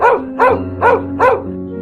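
A dog barks four times in an even, evenly spaced rhythm, loud and close, with a faint steady hum beneath and no talking.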